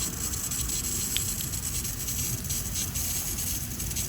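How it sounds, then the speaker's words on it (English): A soft continuous hiss of water from a garden hose on a gentle sprinkle setting, steady and even for several seconds, fairly quiet with no voices. "Just like a gentle little sprinkle instead of this hard spray here."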